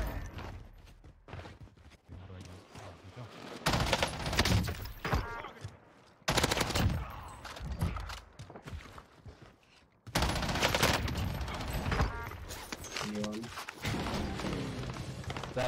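Gunfire in the video game Warzone comes in several loud, dense bursts and rapid volleys that start and stop abruptly, with brief quieter gaps and some softer thuds between them.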